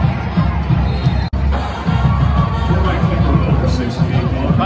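A crowd at a high school football game between Westlake and Northshore roars and cheers continuously, loud and broad, with babble and a commentator talking over it.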